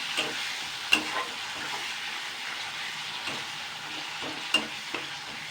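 Onion and tomato spice mix sizzles steadily in mustard oil for a rohu fish curry, a constant close frying hiss broken by a few sharp clinks of stirring against the pan.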